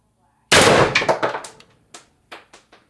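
A CO2-powered X-68 launcher fires a single sharp, loud shot followed by a string of decaying metallic rattles and clanks, close up with no talk.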